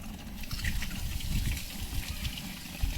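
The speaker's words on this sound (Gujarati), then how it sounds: "આ ડાયરેક્ટ આમ ભરવાનું પાણી" Water gushing and splashing from a tap as it fills Holi water balloons, steady and close with bubbly bursts.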